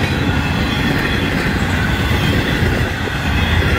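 A Florida East Coast Railway freight train rolls past close by, a continuous loud rumble of wheels and rail clatter with faint squeal, steady throughout.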